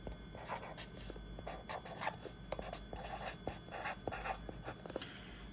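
Marker or chalk writing on a board during a lesson on refrigeration superheat and subcooling, with steady rubbing strokes and short taps close by over faint room noise, no talking.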